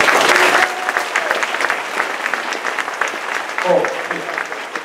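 Audience applause at a community meeting about the Puna lava flow with Hawaii County officials, a loud dense burst of clapping that stays steady for several seconds, with voices mixed into the crowd noise.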